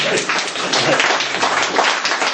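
A small audience at a poetry reading claps in a short, dense burst of steady applause lasting a couple of seconds.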